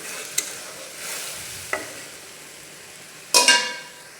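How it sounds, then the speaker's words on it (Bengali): Onions fry with salt in a pan for a fish dish, a soft steady sizzle running under a few close scrapes and clinks of the stirring spoon, ending in a louder double clatter. "পেঁয়াজটা কষাতে হবে।"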